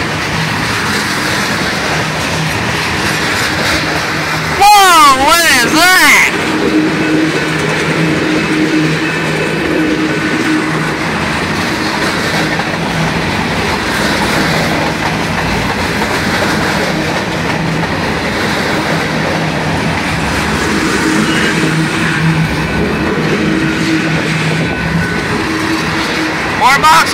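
A BNSF freight train led by CPKC locomotive #8860 rolls past heading west, a loud, steady rumble of wheels and cars filling the whole stretch, with a brief horn-like tone early on and excited voices calling out over it.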